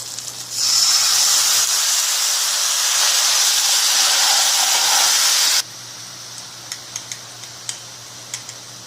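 Water poured into a hot mustard-seed and chilli tempering for dhokla bursts into a loud, steady steam hiss for about five seconds, then cuts off, leaving a quieter simmer with scattered small ticks and pops.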